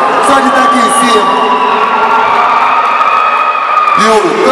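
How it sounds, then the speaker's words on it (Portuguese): Crowd at a Muay Thai fight event cheers, whoops and shouts continuously for the two fighters, loud and dense throughout, with scattered applause and voices mixed into the roar. "Pessoal, uma salva de palmas para os dois."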